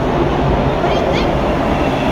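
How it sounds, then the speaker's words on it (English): A subway train passes loudly and continuously, a dense steady roar of wheels on rail in a station on the way to High Park, Toronto, with a faint squeal mid-way. "There's another train coming."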